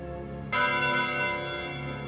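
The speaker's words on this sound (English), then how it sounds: "It was an abominable bell, a bell that brought forth a sound not of this world." A single bell strikes with a sudden, bright metallic onset and then hums on, sustained and ringing, tolling loudly and alone over a low background drone.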